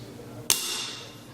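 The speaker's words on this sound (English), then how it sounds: "In the 5 position, the hammer will get released." An AR lower receiver's hammer snaps forward with a single sharp metallic click when the selector is in the fire position, brief and close, followed by a fading ring.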